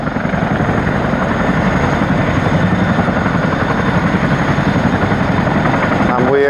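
A British Army helicopter runs on the ground before takeoff, its engine and rotors giving a loud, constant close-up roar throughout.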